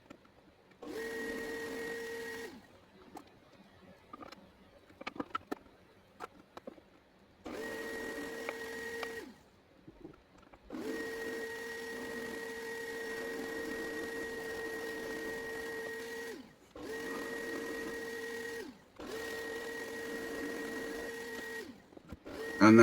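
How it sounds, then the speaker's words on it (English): A wide Forstner bit driven by a drill press bores into wood for a wine glass rack, with a steady high motor whine in several long runs separated by quiet gaps and short clattering noises. "I'm starting off with a wide Forstner bit so there's somewhere for it to sit."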